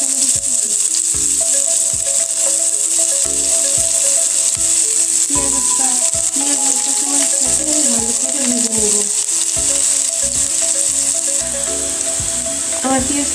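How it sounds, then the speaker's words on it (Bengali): Chopped onions frying in oil in a wok give a loud, continuous sizzle with repeated scraping and stirring strokes and occasional metallic rattles from the pan. "এবার আমি আমি কড়াইয়ে তেলটা দিয়ে দিয়েছি এবার আমি দিয়ে দেবো পেঁয়াজ কুচি"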